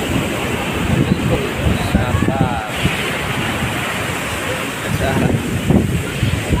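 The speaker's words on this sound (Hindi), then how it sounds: "बीच ये का बीच है और समुद्र की लहरें तो भाई पाट फोड़ रही हैं यार यहाँ पे" Ocean waves crash steadily on Puri beach, a dense continuous roar of surf with wind buffeting the microphone and faint voices mixed in throughout.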